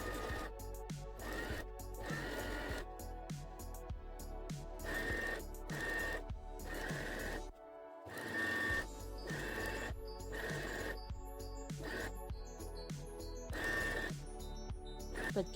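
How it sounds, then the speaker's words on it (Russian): A sewing machine stitches along a ribbon about 1-2 mm from its edge. Quiet, regular mechanical bursts repeat steadily, with one brief pause partway through. "Меняем верхнюю нитку и начинаем строчить со стороны ленты на 1-2 мм."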